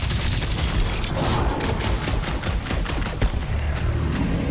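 Rapid bursts of video-game gunfire aimed at a dragon in a Guardians of the Galaxy battle, loud crackling volleys repeating in quick succession over dense combat noise.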